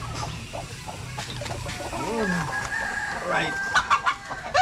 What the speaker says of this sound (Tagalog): ito na yung mga sisiw natin, yung mga anak ng golden girl natin